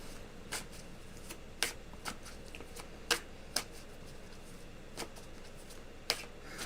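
Tarot cards shuffled in short riffling bursts, about eight sharp crisp snaps spaced irregularly over a quiet room hiss, close and fairly soft.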